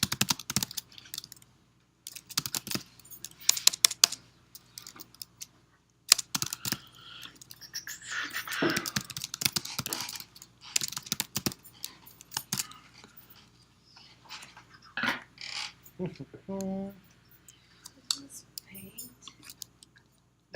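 Computer keyboard typing during a programming lesson on a blackjack game, bursts of quick key clicks spread throughout, mixed with quiet talking and small mouth noises.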